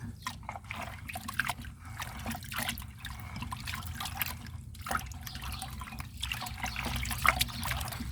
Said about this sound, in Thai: เราก็ลองเอามือกวนดูนะฮะว่ากะปิ ละลาย ดีไหมฮะ